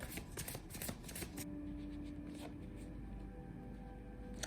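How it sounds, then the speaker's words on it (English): Tarot cards are shuffled and pulled from the deck, a quick run of papery riffles and slaps for the first second and a half, then softer steady card handling with a faint background tone. "let's pull some more cards"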